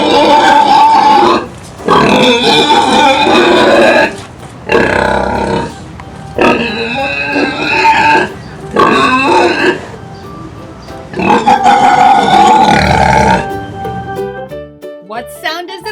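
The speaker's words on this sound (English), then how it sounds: "What sound does a pig make?" A pig on a farm grunts and oinks loudly and close by, in several separate bursts with short pauses between them, ending with a brief trailing tone.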